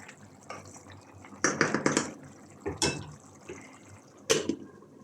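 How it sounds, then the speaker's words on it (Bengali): Fish being washed by hand in a kitchen, with splashy water bursts and dripping in several irregular clusters, fairly close and moderately loud, no talking. "তো এই যে আমি মাছগুলি ধুয়ে নিলাম"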